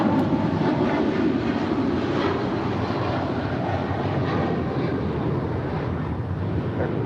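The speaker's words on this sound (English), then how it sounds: "Now touching down here on the south side is Lufthansa 452 coming in from Munich." Lufthansa flight from Munich touching down on the south side at LAX, a continuous broad jet roar that stays loud and even throughout, heard from a distance with no talk.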